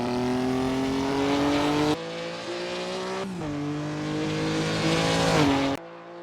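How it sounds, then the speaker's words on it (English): An Alfa race car engine revs hard with a rising, droning pitch, shifting gears several times as it accelerates, loud and close. "Listen to the engine growl as he powers through."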